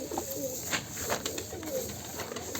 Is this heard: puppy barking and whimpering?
no